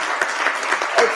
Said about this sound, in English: Please clap for the panel.